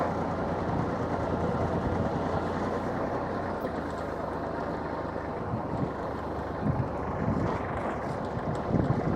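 A Kubota GL27 Japanese mini tractor engine runs steadily as it pulls away in first gear, a continuous broadband rumble heard outdoors with wind buffeting the microphone.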